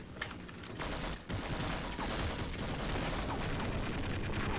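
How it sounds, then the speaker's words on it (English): In the video game Half-Life, a helicopter fires on the player in loud, sustained bursts of rapid gunfire with booming impacts, close and continuous, with no talking. "there's a helicopter and he keeps shooting me"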